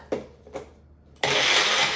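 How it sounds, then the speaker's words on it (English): A blender pulses aloe vera gel with a few short bursts, then one loud, steady whir of the motor that runs close and alone to the end. "get it on your blender and pulse it"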